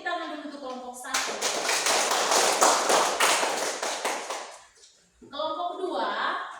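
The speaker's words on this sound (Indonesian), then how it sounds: "Tepuk tangan dulu untuk kelompok 1." Classroom applause for a student group: a sustained burst of many hands clapping fast and fairly loud for about four seconds, fading out, with a teacher's voice before and after.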